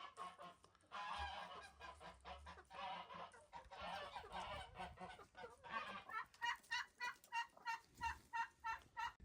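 A goose gander honks repeatedly in rhythmic, nasal calls, close by, with chickens and other fowl clucking and gobbling in the background.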